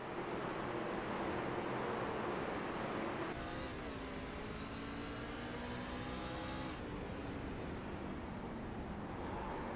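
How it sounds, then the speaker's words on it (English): A race truck in a Martinsville truck series finale downshifts, its engine rising and falling in pitch in a sharp rev, then spins its tires with a sustained roaring whine, heard faintly through broadcast crowd noise. "Yep, downshift, spins tires around."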